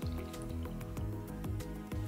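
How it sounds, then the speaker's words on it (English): A water sample is drawn up into a 60 ml plastic syringe with wet, squelching gurgles and drips that rise in pitch in repeated strokes about every half second, close and fairly loud. "draw it up with a 60 milliliter syringe and pass it through the filter"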